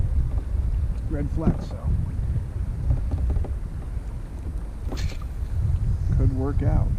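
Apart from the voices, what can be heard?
wind on a lake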